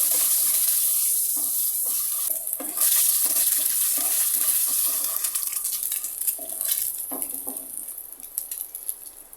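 Eggs frying in hot oil in a pan while being stirred, a steady close sizzle broken by scraping spatula strokes, with no talk.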